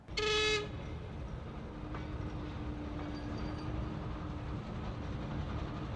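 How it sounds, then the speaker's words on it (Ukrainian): A freight train rumbles steadily past near a flea market by the tracks, opening with a short loud horn blast, then a continuous heavy rolling clatter of wagons close by. "їде потяг"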